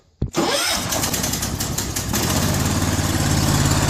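John Deere garden tractor engine cranks and catches almost instantly, then settles into a loud, steady close-up idle with a rapid, slightly uneven putter.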